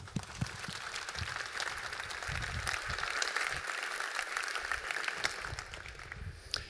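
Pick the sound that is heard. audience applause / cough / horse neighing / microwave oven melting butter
audience applause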